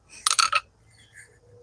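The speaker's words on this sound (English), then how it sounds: "dropped my hammer." A hammer dropped and clattering against a hard surface during sword work, a quick burst of sharp metallic clinks and bounces close by, then quiet.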